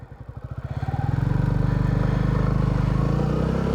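A motorcycle engine idles with a rapid, even pulse, then rises in pitch and loudness as throttle is added and the bike pulls away in first gear, a close, steady drone with no one talking.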